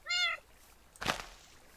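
A cat in a video game lets out one clear, close meow, followed a moment later by a soft dull thump.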